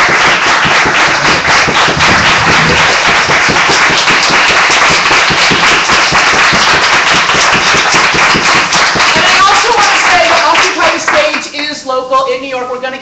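A large audience claps loudly and continuously for the actors at the close of an Occupy-themed stage performance, dense applause filling most of the clip before thinning out, with a voice emerging near the end.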